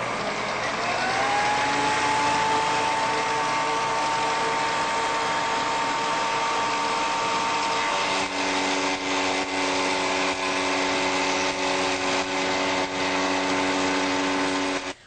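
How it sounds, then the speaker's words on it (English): A woodworking shaper or multi-purpose tool in shaper position runs steadily with a loud continuous whine, its tone shifting partway through as it cuts the edges of a wooden cutting board. "you can use a shaper or a multi-purpose tool set up into the shaper position"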